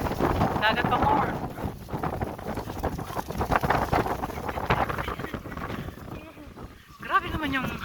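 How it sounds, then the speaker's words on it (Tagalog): Gusty wind off the sea on a Bagac, Bataan shore blasts the microphone in continuous low roaring bursts, close and loud, with voices talking throughout. "Grabe naman yung hangin ng dagat dito."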